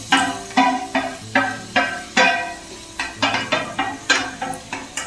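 Chopped carrots and onions dropping into a cooking pan, with a series of sharp clinks and scrapes in an irregular rhythm, close and clear, with a faint sizzle underneath.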